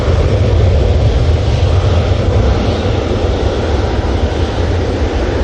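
A Hainan Airlines Airbus A330 jet gives off a loud, close, steady engine roar with deep rumble and broad hiss, sustained throughout without any talk.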